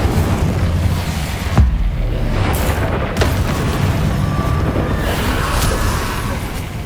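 Confringo fire-blast spell from Hogwarts Legacy going off as deep, booming explosions, with two sharp blasts standing out over a continuous rumbling roar.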